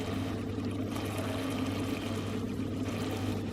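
Oil is poured over vegan curry potatoes in one continuous, close pour lasting a few seconds, with a low steady hum underneath.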